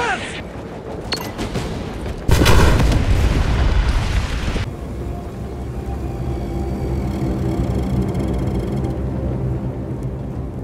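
A bomb detonates in a video game with a sudden, loud, roaring blast that rumbles on for a couple of seconds before settling into a lingering low ambience.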